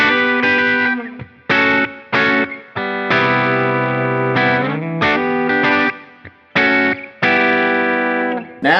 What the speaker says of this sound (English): Then the bridge humbucking.